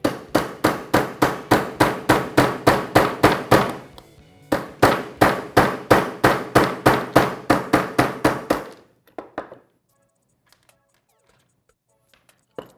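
Fast, evenly spaced hammer taps driving pins out of a Walther PDP pistol frame, close and sharp in two long runs with a brief pause between, then a few faint clicks.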